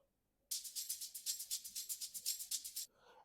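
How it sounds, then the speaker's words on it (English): A soft Afro house shaker loop of rapid, hissy, evenly spaced shakes running steadily for a couple of seconds, then cutting off abruptly. It plays quietly and alone. "And also just added a shaker loop."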